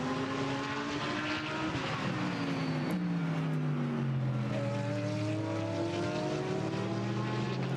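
GT race cars at the Spa-Francorchamps circuit during pre-qualifying for the 24-hour race pass with a sustained engine roar, pitch falling steadily as they brake toward a right-hand corner.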